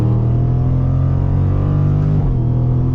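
A Dodge Charger Scat Pack Widebody accelerating hard, its loud, close engine droning steadily upward before a brief dip as the gear shift comes through.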